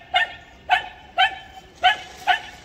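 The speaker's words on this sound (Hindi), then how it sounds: "बहुत ज्यादा भौंक रही है।" A dog barks five times in sharp, evenly spaced yelps, close and loud, with quiet gaps between barks and no talk over them.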